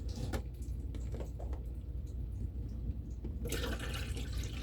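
Water running steadily from a tap, a continuous broadband wash that grows brighter and louder toward the end, with no talk over it.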